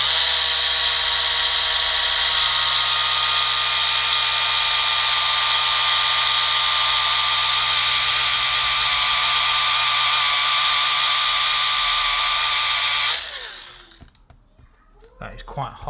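A Liquid Elements A1000 mini rotary polisher runs on car paint with a loud, steady high-pitched whine for about thirteen seconds, then stops abruptly and leaves faint handling noises.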